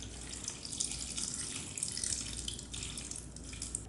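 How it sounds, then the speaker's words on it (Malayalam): Water pours steadily into a cooking pot holding tomatoes, green chillies, curry leaves and mango for a tomato mango curry, a continuous close splashing rush with no talk. "ഇതെല്ലാം കൂടി ഇട്ട് ഇത് വേകാൻ ആവശ്യമായ വെള്ളം ഒഴിച്ചു കൊടുക്കണം"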